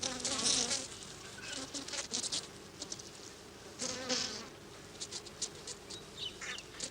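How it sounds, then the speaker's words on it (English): Bees jostle for a limited roosting spot on a vine at dusk, a dense close buzzing of many wings rising and falling in overlapping bursts, with no voices. "Landing space is limited, and the bees compete for a place to spend the night."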